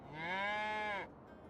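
Single long, loud cow moo from the farm livestock in Farming Simulator 25, a sustained bellow of about one second that cuts off abruptly, leaving quiet background.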